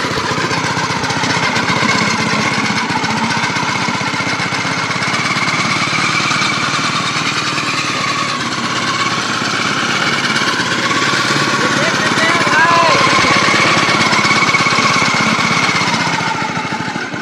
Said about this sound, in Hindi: आप लोग देख लिए कि किस तरह से ये ट्रैक्टर काम करता है